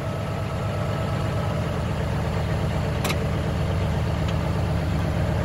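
A truck engine held steady at 1,000 RPM to build air brake pressure, a loud continuous low rumbling idle with one brief sharp click partway through.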